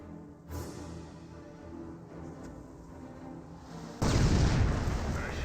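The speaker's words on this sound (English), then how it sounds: "Nice landmine detonation there." Landmine detonation in the Company of Heroes video game, a sudden loud blast near the end that follows a quieter stretch of distant combat rumble and a faint earlier thud.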